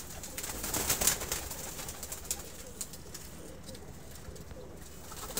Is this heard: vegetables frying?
no